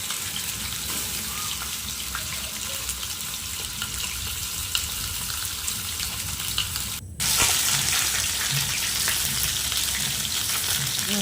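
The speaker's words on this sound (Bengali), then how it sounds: "আবারও কিছুটা সরষের তেল দিয়ে মাছের মাথাগুলো আমি ভেজে নেবো ভালো করে" Fish heads fry in mustard oil in a pan, a continuous loud sizzle and crackle that runs throughout, briefly cutting out for a split second before resuming slightly louder.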